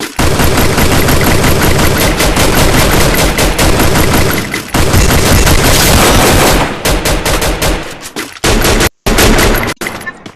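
Video game gunfire: dense, loud bursts of automatic fire repeating almost continuously, with brief pauses and a short gap near the end, no speech over it.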